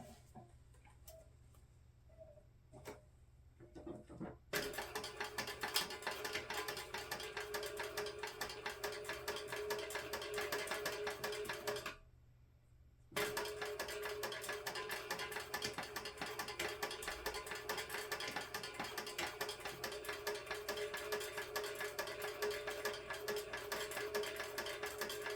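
A sewing machine top stitches down the side of a Zip 'N Go crossbody bag, giving a steady fast mechanical ticking and whirring that runs almost continuously, with a short pause near the middle and a quieter start.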